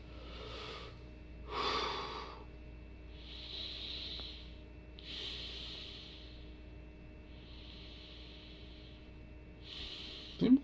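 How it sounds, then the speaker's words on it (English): Close, steady human breathing: a series of soft, airy inhales and exhales repeating every second or so, with one sharper snort-like breath near the end and no talking. "Get a close up of my breathing."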